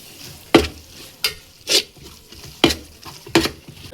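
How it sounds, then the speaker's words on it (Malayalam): Beef being stirred with meat masala in a pan for biryani: a handful of separate scraping stirs with light sizzling in between, close and fairly loud, no talk. "ഒന്ന് ഇളക്കി യോജിക്കും"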